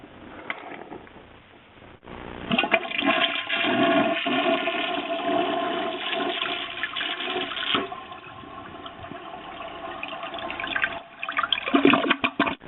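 A toilet flush sound effect: a click of the handle followed by a long rushing, gurgling swirl of water that surges and drains for about ten seconds, heard alone.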